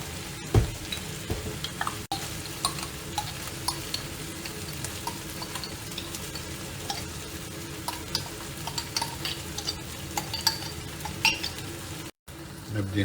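Tomato paste fries in a pot with a steady close sizzle while a spoon stirs and scrapes against the metal in repeated strokes, with occasional clinks throughout.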